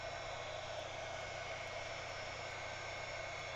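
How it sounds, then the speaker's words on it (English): A craft heat tool blows steadily on wet paint with a constant, even whoosh that stays loud and unbroken throughout, with no talking. "When you're using your heat tool, it is a pretty fast process as you're drying."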